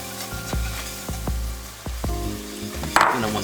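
Flour cooking in fat to make a roux: a steady close sizzle with a spoon repeatedly knocking and scraping against the pan in an uneven rhythm.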